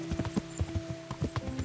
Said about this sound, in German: Da steht ein Pferd